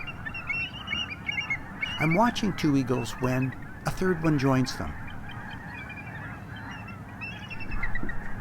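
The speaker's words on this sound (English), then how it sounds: "snow geese and the ducks around them are restless" Snow geese honk from restless flocks on tidal flats of the Fraser and Skagit River deltas, a cluster of loud calls near the middle with someone narrating over and around them.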